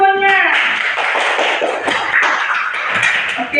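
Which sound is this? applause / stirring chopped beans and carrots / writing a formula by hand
applause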